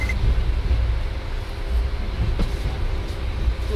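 The Kanchan Kanya Express rolling into Bagdogra station, a low steady rumble of the train moving in close with a faint brief squeal partway through, no talking.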